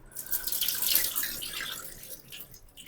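Tap water runs steadily into a kitchen vessel while rice is washed, a bright splashing hiss that swells early and gradually eases off, with no talking.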